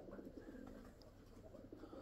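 A pigeon coos nearby in a short, soft, low-pitched throaty call, heard alone without any talk over it.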